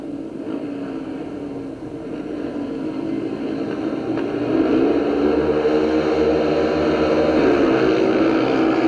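Speedway motorcycles roaring away from the start gate in a 1995 Premier League meeting, a droning engine noise that builds and swells in loudness as the bikes accelerate, with no talking.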